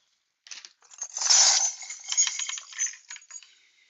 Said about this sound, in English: knocking over a box of bells